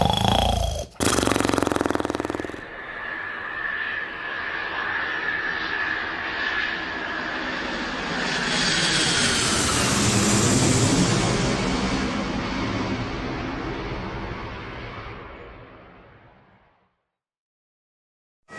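An airplane landing heard from inside the cabin: a loud, sustained engine roar that swells to a peak, then winds steadily down and fades to silence near the end.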